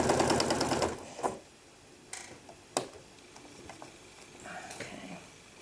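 A sewing machine stitches straight across couching work in a quick burst at the start, followed by scattered close clicks and small handling knocks as the stitching stops; no talking.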